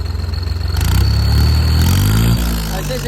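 A New Holland tractor engine fitted with a turbo revs up hard from idle, its deep rumble swelling and then easing back slightly, loud and close with no talking.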